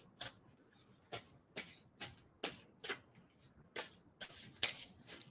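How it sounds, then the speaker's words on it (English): A tarot deck shuffled repeatedly at close range, each brisk riffle a short papery burst, roughly nine in an uneven rhythm with brief gaps and no voices. "tell me when to stop shuffling"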